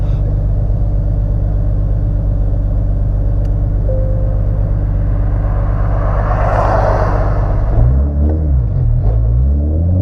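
A G35 car engine, retuned with GT-R injectors, idles with a low steady rumble, then rises and falls as it revs toward the end, close by.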